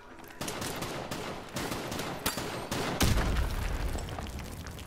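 Video game gunfire from a multiplayer shooter, a series of sharp shots and bursts spread over several seconds, some distant and some close and loud, over a continuous ambient game background.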